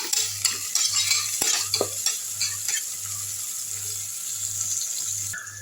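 Two handfuls of onions with curry leaves stirred and sautéed in a hot pan: a close, steady sizzle with repeated scraping strokes of a spoon and a faint low hum underneath.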